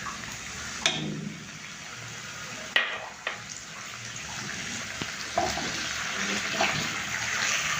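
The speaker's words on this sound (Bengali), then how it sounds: "এখন আমি এখানে একটু পানি দিয়ে দিচ্ছি, কারণ বাকি গরম মশলাগুলো আছে তো" Water is added to a pan of frying onions and whole spices for a mutton bhuna, with a sizzling burst at the pour, then steady hissing and scraping through the rest.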